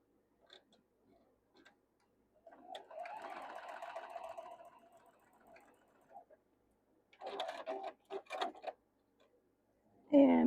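Home sewing machine stitching quilt block pieces together, running in two short bursts of rapid, even mechanical chatter separated by quiet pauses and faint handling clicks, close and fairly soft.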